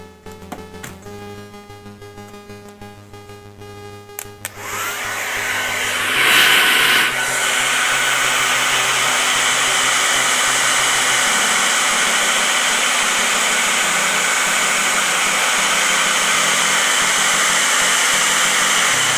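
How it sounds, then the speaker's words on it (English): A hair dryer on high heat blasts steadily at a sticker on an NES game cartridge or console to loosen its adhesive. It roars loud and constant for about fourteen seconds after some quieter handling sounds at the start. "Take your hair dryer, put it on high heat."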